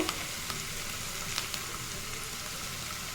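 Vegetables sautéing in a pan give a steady, dense sizzle that holds at an even level throughout, with a few small ticks of stirring on top, close by and with no talking.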